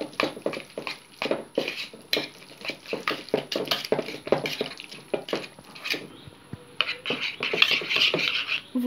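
Egg yolks and mascarpone being mixed in a bowl with a utensil, giving a steady run of close scraping and clinking strokes against the bowl, with no one talking.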